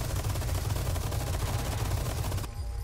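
Rapid gunfire from a handgun in the Resident Evil 4 remake, played on hardest difficulty, rattles in a dense, loud burst of repeated shots that runs nearly three seconds before cutting off abruptly.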